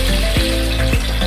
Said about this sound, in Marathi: ह्यामध्ये टाकून घेऊया लसूण